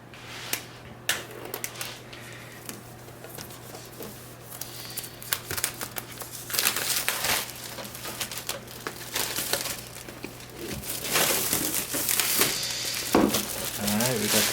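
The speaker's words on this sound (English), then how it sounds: "Alright, we got the plastic off." Plastic wrap is peeled and crinkled off a MacBook Pro M1 box, soft crackling rustles coming in bursts at close range, with someone talking at intervals.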